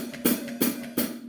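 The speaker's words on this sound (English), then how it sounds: "you're going to open and close it like this" Three evenly spaced hi-hat strikes from a beginner drum kit, the cymbal opened and closed with the foot pedal, close and moderately loud.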